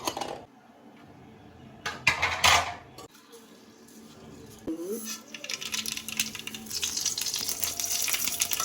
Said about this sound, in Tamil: வெங்காயம் கருவேப்பிலை தாளிக்கிறேன்